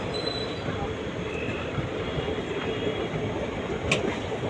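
A passenger train on the Palakkad to Erode line pulling into Tiruppur Junction, a steady close rumble of rolling carriages with a faint wheel squeal and a brief high screech near the end, no talk.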